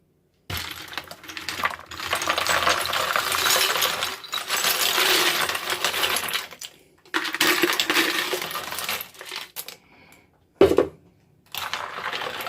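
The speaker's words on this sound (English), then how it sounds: "And then we're going to add our ice." Ice cubes dropped into a watermelon drink with simple syrup, sounding as a long loud clattering rattle that stops and starts in bursts, with no voices.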